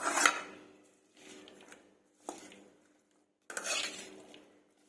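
A spoon scrapes and clatters around a bowl while sweet corn snack ingredients are mixed together, coming in four separate bursts of clinking and stirring with short quiet gaps between them; no one speaks.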